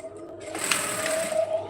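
A sewing machine runs steadily, top stitching elastic onto a simple A-line dress with an elastic puff, its motor whirring continuously and close up for the whole stretch with no talk.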